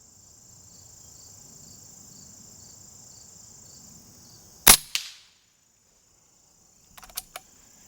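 An AirForce Talon P air pistol fires rifle ammunition, a single sharp close crack with a brief echo over a steady chirp of crickets, followed by a few faint mechanical clicks.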